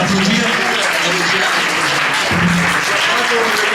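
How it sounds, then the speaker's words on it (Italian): An audience at a conversation event breaks into loud, dense applause, sustained and close, with voices mixed in under the clapping. "Allora, voilà, on va t'applaudir."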